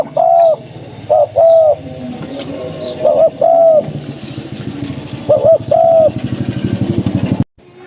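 A dove coos in close, loud phrases, several rhythmic bursts separated by pauses, over a low engine-like rumble with a voice briefly heard.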